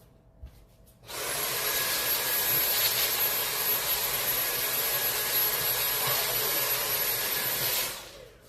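A vacuum cleaner switches on after a brief quiet moment and runs as a steady, loud broadband roar with a faint high whine, then cuts off near the end. No one speaks.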